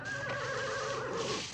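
A horse neighs in a long, wavering whinny that rises and falls, loud and close over a faint background, with no talk.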